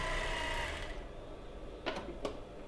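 A sewing machine stitches rapidly for about a second, then stops, leaving quiet room tone and two small mechanical clicks.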